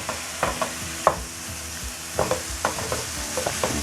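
Ground beef browning in a pan for hamburger mac, a steady close sizzle broken by repeated sharp scraping and chopping taps of a utensil breaking the meat into chunks, with no voices.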